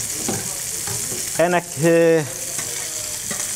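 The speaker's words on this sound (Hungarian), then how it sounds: "Közben kisült a füstölt szalonna, egy nagyon picit meglocsoljuk a tetejét egy kis forró füstölt szalonna zsírral." Hot smoked bacon fat sizzles steadily as it is drizzled over grilled trout, with a brief spoken word in between.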